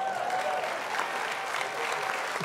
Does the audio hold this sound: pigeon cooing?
no